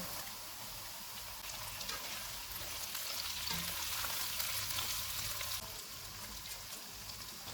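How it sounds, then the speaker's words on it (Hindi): Tomatoes frying with onions and ginger-garlic paste in a pan over lowered heat for aloo masala pulao, giving a steady, moderate sizzle with no speech. "2 टमाटर डालेंगे।"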